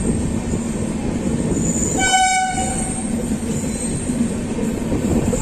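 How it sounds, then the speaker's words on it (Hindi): Ajmer Janshatabdi Express train running near Delhi Cantt station, a loud continuous rumble of wheels on rails with a short, clear horn blast partway through. "जल्दी जल्दी ट्रेन को अराइवल दो और डिपार्चर दो, कोई फालतू देरी नहीं।"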